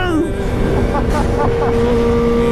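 A Kawasaki Ninja H2 motorcycle being ridden gives a loud, steady engine drone with rushing wind, the pitch holding level, while a voice speaks faintly over it.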